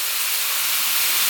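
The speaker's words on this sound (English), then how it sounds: "Oh, look at the scallop sizzling away here." A scallop sizzles on a hot Samoa-style grill with a steady, loud, close hiss throughout, with no talking.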